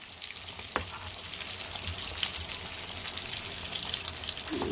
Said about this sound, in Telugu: అలానే కొంచెం అల్లం వెల్లుల్లి వేసుకొని ఫ్రై చేసేసుకోవాలి